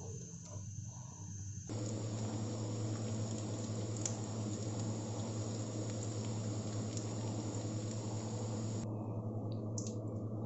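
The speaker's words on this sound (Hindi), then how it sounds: "मैंने डाला है 2 टेबल स्पून अदरक लहसुन का पेस्ट। और मैं स्टोव को करती हूँ ऑन और इसको थोड़ा सा लाइट गोल्डन होने तक इसको पकाती हूँ" Ginger garlic paste fries in desi ghee in a pan on the stove, cooking toward light golden. It gives a steady, close sizzle with soft bubbling and popping that starts abruptly and holds evenly.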